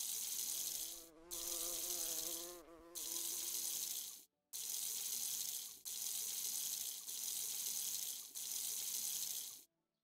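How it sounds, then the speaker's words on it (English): Watering plants in a farming sim video game gives a steady, bright hiss of spraying water in several bursts, each cut off by short gaps of silence, with no talk. "we gotta go water our plants, don't we?"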